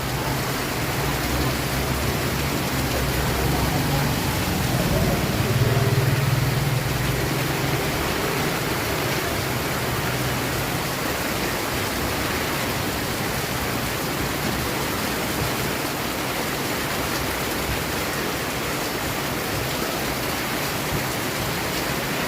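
Heavy rain pours down in Manila, a loud, dense and continuous hiss that holds steady without a break, with no voices over it.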